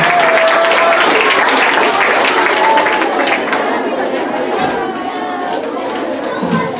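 Elementary school audience applauding at an Oscars-style awards event as students leave the stage, loud clapping mixed with chatter and voices that gradually thins and fades.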